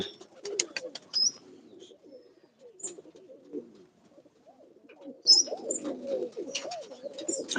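Pigeons outdoors in the morning, domestic flying birds released from a rooftop, give soft low cooing phrases and a few brief chirps, intermittent through the first half, then a fuller, louder burst of cooing near the end.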